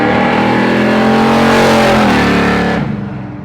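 A 1970 Chevelle SS muscle car engine roars loud and close on a nitrous shot, revving hard and rising in pitch as it accelerates, then eases off near the end.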